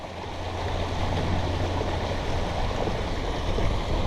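A kayak trolling motor running at 75% speed churns and pushes water in a steady, loud rush with a low hum underneath, continuous throughout with no talking.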